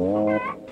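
A chicken clucks in a short, close burst of two quick throaty calls, the first fuller and the second thinner and higher, with no talking.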